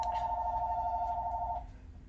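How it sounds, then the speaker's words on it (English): A phone rings in the background of a live art studio session, giving one steady electronic tone that holds for about a second and a half and then cuts off over faint room hum. "Have you heard my phone ringing in the background?"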